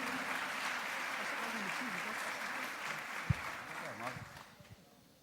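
A congregation applauds to welcome a pastor at a Brazilian church service, steady dense clapping filling the room alongside some murmured voices, with one sharp thump near the middle before the applause gradually thins out.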